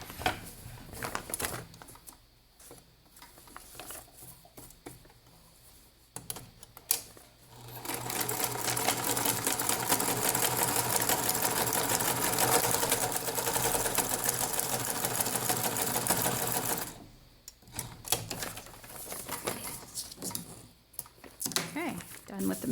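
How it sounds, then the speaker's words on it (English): A sewing machine stitches a line down the side of a paper pocket page for a junk journal insert. Soft handling noises come first, then the motor runs steady and loud for about ten seconds before it stops and the handling resumes. "just gonna run a line of stitching down this side"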